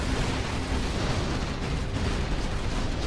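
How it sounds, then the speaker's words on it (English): Artillery barrage in the real-time strategy game C&C Generals Zero Hour, a dense, continuous roar of overlapping explosions and booms that stays loud for the full three seconds with no distinct gaps. "RT barrage comes in."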